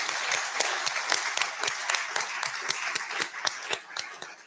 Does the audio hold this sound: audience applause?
yes